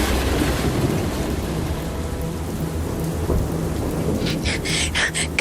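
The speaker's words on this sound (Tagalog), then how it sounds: "Mas lalong lumakas ang ulan at hangin." Heavy rain pours in a dense, steady roar with rumbling wind gusts beneath, a typhoon storm effect, loud and continuous, with a few brighter splashy bursts near the end.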